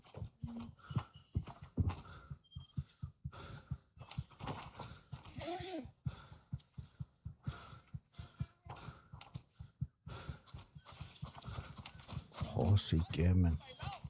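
Horse hooves clip-clop in regular, fairly close beats in the shooter Gray Zone Warfare, joined by a whinny and occasional dog barks, with voices talking throughout.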